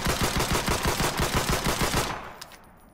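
Rapid automatic fire from the M9A1 Elite in the battle royale game Islands of Nyne, a loud close burst of evenly spaced shots for about two seconds, then a sharp stop with a brief trailing echo and a faint click.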